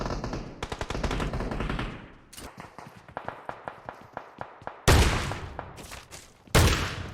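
Rapid bursts of Uzi submachine gunfire in PUBG Mobile, fast rattling volleys broken by short pauses, with a few sharper, louder shots near the end.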